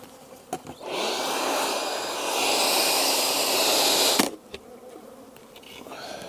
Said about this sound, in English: All the bees will fly to the windows.